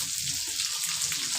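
Chopped ginger, garlic and onion fry in a pan, producing a continuous close crackling sizzle with faint popping, steady in loudness over a brief stretch and free of talk.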